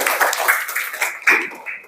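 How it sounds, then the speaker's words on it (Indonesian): Classroom of primary school pupils clapping hands together, a quick run of overlapping claps with a few louder bursts, close and fairly loud, lasting about two seconds. "Tepuk tangan dulu"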